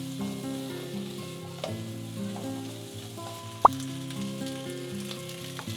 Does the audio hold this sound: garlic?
yes